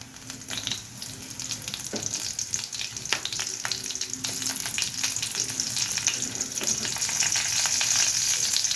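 Green chilies frying in a pan for cucumber chutney, a continuous crackling sizzle that grows louder and denser, with occasional light stirring clicks and no talking.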